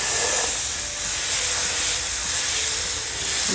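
Red pumpkin and carrot uttapam batter sizzles loudly and steadily on a hot oiled iron griddle, a dense crackling hiss with no talking.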